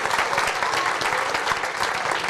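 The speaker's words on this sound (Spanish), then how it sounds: "dale un aplauso al Señor si quieres" A church congregation applauds during a sermon, a dense, steady wash of many hands clapping at once, close and full, with no speech over it.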